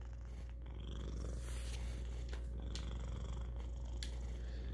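A house cat purrs up close in a steady, continuous low rumble that holds evenly throughout, with no talking.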